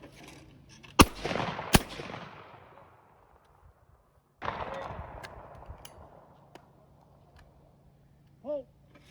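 A Parker Brothers shotgun fires outdoors: two sharp, loud reports in quick succession, then a third after a pause, each trailing off into a long echo, with a short vocal exclamation near the end.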